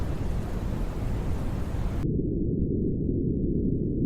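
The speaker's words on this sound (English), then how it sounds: "there's brown noise as well. It sounds like this." Steady broadband rushing brown noise, which then turns into a deep, muffled rumble with the highs cut away, continuous and even like distant surf.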